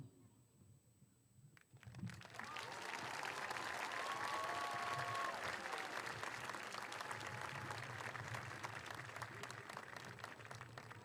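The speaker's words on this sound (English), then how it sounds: "I would give him another round of applause." A graduation audience breaks into applause after a quiet moment, swelling into sustained, dense clapping from a large crowd that carries on to the end.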